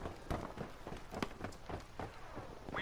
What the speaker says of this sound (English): Footsteps and the tracers come in.